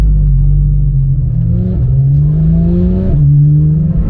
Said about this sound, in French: il y a une très belle BMW M2 qui passe, vous allez la voir